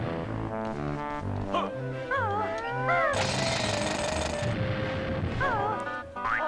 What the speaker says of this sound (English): Now we can drill open these dirt patches.